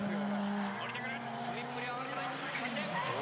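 A drift car holds a deep angle through its final drift at a 2012 D1SL round at Maze, with a continuous engine roar and tire squeal heard close behind a commentator's voice.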